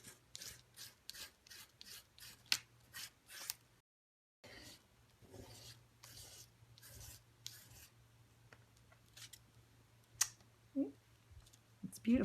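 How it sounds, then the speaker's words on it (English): An edge scrapes paste across a stencil in a string of short, rhythmic rubbing strokes, close and fairly quiet over a low hum, with a brief pause partway through. "And then you want to just scrape it across like that with the edge."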